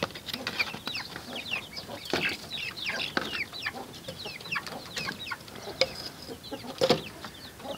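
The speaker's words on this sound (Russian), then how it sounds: "Куры, куры. Давайте, девчонки, идите сюда. Куры, куры, куры." A flock of adult hens cluck and chatter continuously at close range while being called over to eat leftover cabbage and brine in a farmyard, many overlapping short calls with no pauses.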